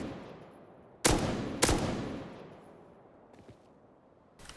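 An M249 machine gun in the video game Rust fires two loud single shots about half a second apart, each ringing out with a decaying tail, followed by fainter distant pops.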